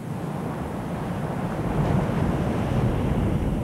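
Ocean surf pounds at Waimea Bay on Oahu's North Shore, a continuous roar of breaking waves mixed with wind buffeting the microphone and swelling slightly louder partway through.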